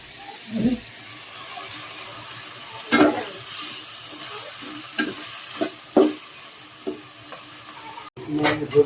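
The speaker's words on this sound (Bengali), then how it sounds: "এখন সবজিগুলো দিয়ে দিতেছি, তো এটাকে এখন ভালোভাবে কষিয়ে নিব।" Mixed vegetables stir-fried in a pan for a fish curry, a soft continuous sizzle broken by several sharp spatula scrapes and knocks against the pan.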